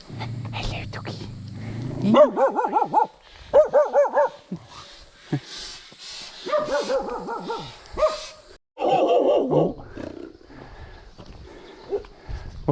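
A dog on a mountain walking trail in Korea gives several short bursts of barking and yips, fairly close, with gaps between them and some outdoor background noise.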